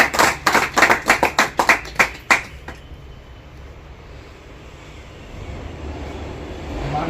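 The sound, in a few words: loud applause from audience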